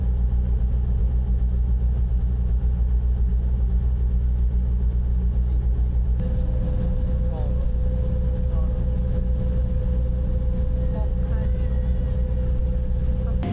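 A ferry's engine drones steadily and low throughout a boat ride leaving Cebu, with a constant rumble joined midway by a sustained higher hum; no clear talk rises above it.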